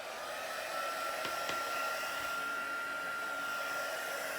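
Heat tool blowing hot air onto embossing powder during a gift-wrap craft project: a steady, close electric whine with an even airy roar that holds throughout without pause.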